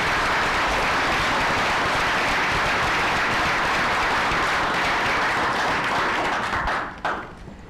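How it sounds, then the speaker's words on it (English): Audience at a county school board meeting giving a sustained round of applause, dense and steady for about seven seconds before tapering off abruptly. "So let's just give them a round of applause."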